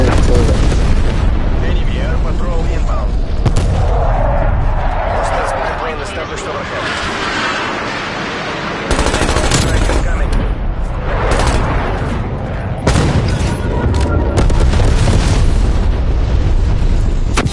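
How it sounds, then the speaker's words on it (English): Napalm strike explosions in a video game boom and roll in repeated heavy blasts across the clip, with aircraft-like roar and overlapping game voice callouts. "napalm strike inbound"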